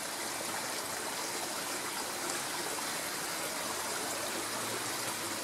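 Water rushes steadily through a small micro culvert pipe in a country park, a dense, even hiss and gurgle that holds constant throughout with no voices.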